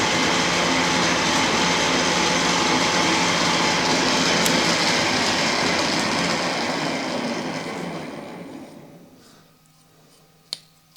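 A lathe turns at 600 rpm as a 6 mm drill bores into the workpiece, a dense steady machining rumble and hiss that stays level for several seconds, then tapers off to near quiet with a single sharp tick near the end.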